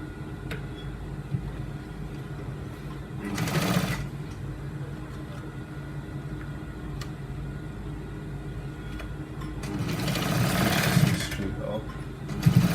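A sewing machine runs steadily while stitching up one side of a trouser seam, with a constant low mechanical whir and two louder bursts as the pace picks up. Broadband noise washes over it partway through.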